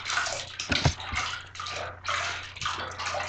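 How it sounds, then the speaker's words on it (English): Water pours and splashes over a dog's back during a bath in a tub, a close hissing flow in uneven bursts with brief breaks and a few sloshes. "gently pour water on their back so they're not scared"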